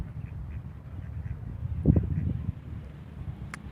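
Wild ducks quack in a short, close cluster of loud calls near the middle, with softer scattered quacks and rustling before and after; no one speaks.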